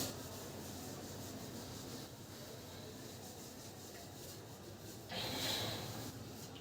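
Cloth or eraser rubbing across a board being wiped clean, a steady scrubbing hiss lasting several seconds, fairly quiet, with a brighter louder burst of strokes near the end; no talking.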